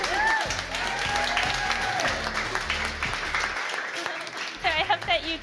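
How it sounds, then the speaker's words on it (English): Audience applause at a high-tech fashion event, steady clapping that runs throughout with talk and music-like tones over it. "Can we have a round of applause for her, please?"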